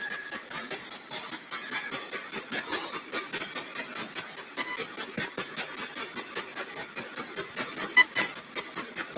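An SB7 spirit box sweeps through white noise, chopping it into rapid regular bursts that mimic a chugging train, a steady rhythmic hiss running without pause for nine seconds, close and moderately loud.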